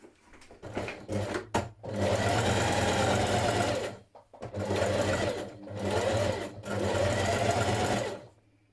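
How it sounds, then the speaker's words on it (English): A sewing machine stitches coat pieces together with a 1 centimetre seam, running in three loud, steady whirring bursts of a few seconds each, separated by short pauses and clicks. "We're going to stitch those together now with a 1 centimetre seam allowance."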